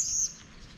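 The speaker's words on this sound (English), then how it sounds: "Bird on the line there." A small bird perched on an overhead wire in a historic town district gives one brief, high, clear chirp outdoors, then only soft ambient noise remains.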